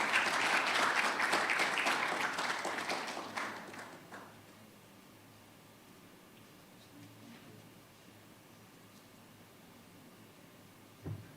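Audience applause at an architects' annual general meeting, a loud burst of clapping across the room that fades out after about four seconds, leaving quiet room tone.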